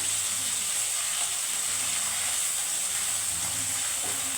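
Onion and nut paste sizzles steadily in hot oil in a pan while being lightly stirred, a continuous close hiss with faint scraping underneath and no voices.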